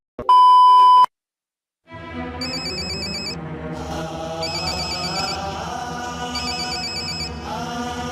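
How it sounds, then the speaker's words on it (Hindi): A telephone rings loudly with a repeating electronic ringtone, starting with a sharp beep and then a sustained multi-tone ring in a domestic comedy scene. "उठा लेना फोन आसिम।"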